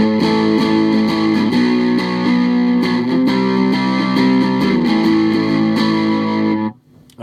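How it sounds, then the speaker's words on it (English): A sustained electric guitar chord through a Retro Effects fuzz pedal with distortion turned all the way down, light fuzzy grit ringing loudly, a few picked notes over it, then cutting off abruptly near the end. "that's the distortion wound all the way back"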